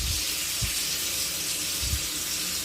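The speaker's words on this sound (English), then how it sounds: "So this is the shower working." A bathroom shower runs with a steady, hissing spray of water, close and continuous, with a couple of faint low thumps underneath.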